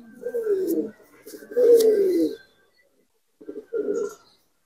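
Rooftop Punjabi Malwai pigeons coo nearby in three throaty, rolling phrases separated by short pauses, clear against a quiet background.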